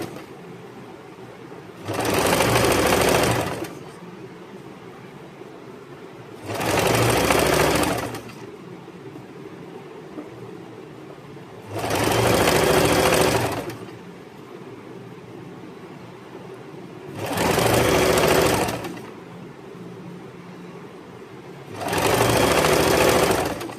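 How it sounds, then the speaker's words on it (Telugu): A sewing machine stitches the leg seam of a pair of shorts in five separate loud, close whirring runs of a second or two each, with quiet pauses between them. "లెగ్ అంటే లెగ్ వైపు కుట్టేస్తున్నాను"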